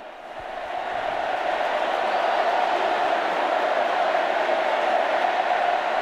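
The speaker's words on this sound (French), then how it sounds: "par une acclamation de joie et de jubilation par les catéchistes et les jeunes présents au stade des martyrs" A large crowd of catechists and young people in the Stade des Martyrs at a papal Mass cheers steadily, a dense, distant roar of voices that swells in the first second and then holds loud and even.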